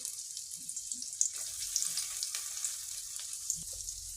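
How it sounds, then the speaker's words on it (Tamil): Cut capsicum and coriander leaves sauté in a pan for a fish roe fry, giving a soft, steady sizzle with faint stirring clicks and no voices. "இதை நம்ம கொஞ்சம் வதக்கிடலாம். கொஞ்சம் வதங்க விடலாம்."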